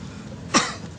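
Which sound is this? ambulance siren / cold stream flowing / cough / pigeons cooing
cough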